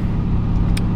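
A car engine runs steadily from inside the cabin, a low continuous rumble with a faint brief higher noise near the end, no talking.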